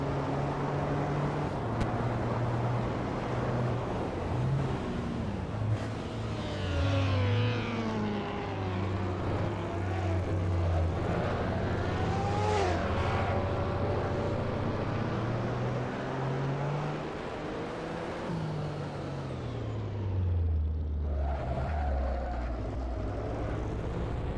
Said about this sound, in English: That's the Ferrari 166 FL. Has like 300 horsepower also.